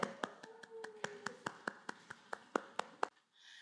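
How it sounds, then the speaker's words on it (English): Audience applauding presenters at an event: a quiet, evenly spaced run of about fourteen sharp claps, steady rhythm, then stopping. "give a big round of applause for Murni and Angeline"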